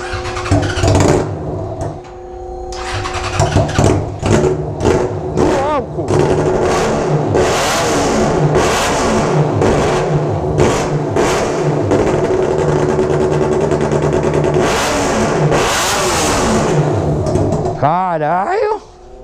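A Suzuki B-King motorcycle engine cranks, fires up and is revved repeatedly, loud and close, with rising and falling throttle blips, and people talk nearby during the revving.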